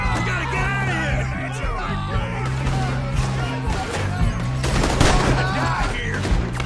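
Rapid gunfire in the video game Red Dead Redemption 2, repeated shots crackling over a steady low engine-like drone, with shouting voices and music mixed in throughout.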